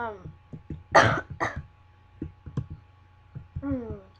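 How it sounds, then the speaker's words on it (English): A few short, sharp coughs and throat clearing at close range, then quiet clicks and a brief voiced sound at the end. "sorry, I was coughing."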